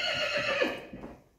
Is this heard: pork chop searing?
no